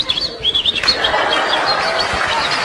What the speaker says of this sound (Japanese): 小鳥のさえずりが聞こえるな。